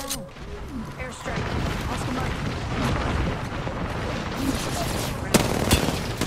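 Loud, dense video game gunfire rattles in continuous bursts with heavy booms and sharp cracks, while voices call out over the shooting.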